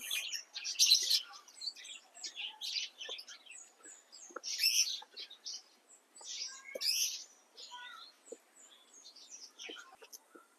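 Parrots and lovebirds at a wildlife site in Albay give bursts of shrill chirps and squawks that rise and fall in clusters, fairly faint against a quiet background.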